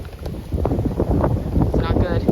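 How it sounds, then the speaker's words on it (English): Strong gusting wind ahead of a severe thunderstorm with high winds in Frisco, Texas, buffets the microphone in rough, rising rushes, with a person speaking over it. "The wind's picking up."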